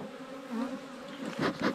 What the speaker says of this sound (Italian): di api ce n'è veramente tante